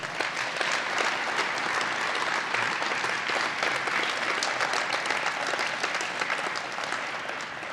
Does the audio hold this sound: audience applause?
yes